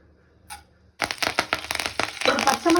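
Sharp popping and sputtering of mustard seeds and urad dal in hot oil, starting suddenly and continuing as a busy crackle of many quick snaps close by.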